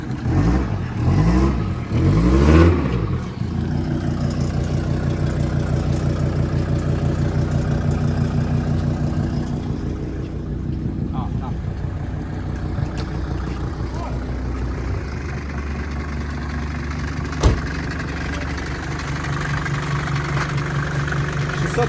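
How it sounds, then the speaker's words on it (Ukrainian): A car engine with a leaking exhaust idles with a rough, rattling exhaust note, steady and close, after a brief revving burst at the start, with voices talking over it. "А що, выход вихлоп дырявий, так? Да? Вихлоп дырявий?"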